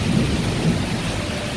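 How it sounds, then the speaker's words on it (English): Torrential rain pours down with gusting wind during a Bangkok rainy-season storm, a dense, loud, continuous roar of water with a rumbling low end and no pauses. "it's really raining that hard and the wind is blowing"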